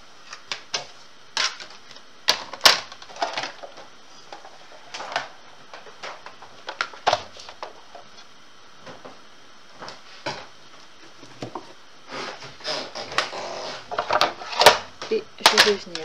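A Big Shot die-cutting and embossing machine works paper while someone speaks French, giving irregular clunks, clicks and cranking bursts that grow busier and louder toward the end.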